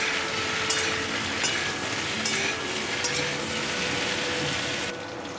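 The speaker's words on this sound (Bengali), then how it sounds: "এবার আমি একটু ভালো করে 3 মিনিট মতো ভেজে নেব।" Mixed vegetables fry in a kadai with a loud, even sizzle and hiss, broken by a few stirring scrapes and taps, and the sound eases slightly at the very end.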